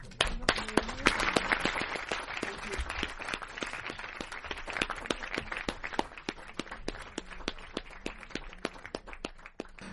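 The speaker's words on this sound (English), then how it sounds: "I get a little round of applause." A round of applause plays as a sound effect, with dense, steady clapping that continues throughout at moderate volume.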